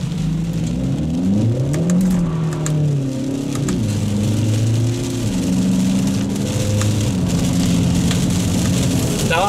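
A 2024 Kia Forte GT with a 1.6-liter turbo engine revs and accelerates hard on a rain-soaked road, its engine note rising and shifting through gears over a steady hiss of wet tires and rain.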